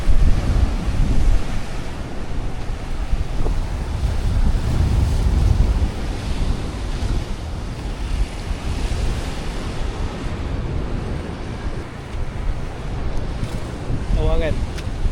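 Strong ocean waves and surf along the Cambodian coast: a continuous roar of breaking water with heavy wind buffeting the microphone, surging louder at the start and end, and a brief voice near the close.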